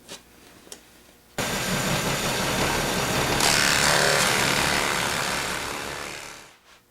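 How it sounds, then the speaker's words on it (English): A drill press bores holes in the wood of a tablesaw sled after a couple of faint clicks, its motor spinning up to a loud steady whine with a rough cutting texture, then winding down. "I now am positioned to drill holes 6 inches from the back edge."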